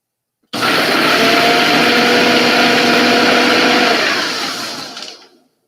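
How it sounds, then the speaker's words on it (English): A blender whirs loudly and steadily for about five seconds chopping macadamia nuts, a dense grinding roar that winds down near the end, with no voices. "in the blender just for a couple of seconds to chop it up"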